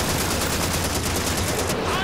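Continuous loud gunfire in Call of Duty 2 during the Pointe du Hoc battle, a rapid rattling of machine-gun and rifle fire with no break that thins out slightly near the end.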